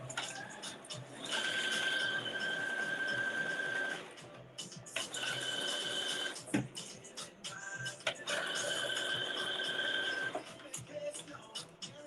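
A home sewing machine stitches a seam in three bursts of fast, whirring runs separated by short pauses, heard close and fairly quiet, with small handling clicks between the runs.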